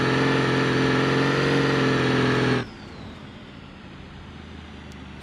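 A loud, unmuffled car engine in BeamNG.drive drones harshly at steady revs, then cuts off abruptly, leaving quiet background.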